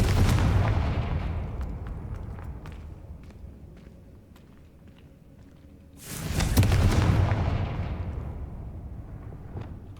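Two booming blasts of the Confringo fire spell in the Hogwarts Legacy video game, each a sharp, loud burst that rumbles and fades over a few seconds, with no talk.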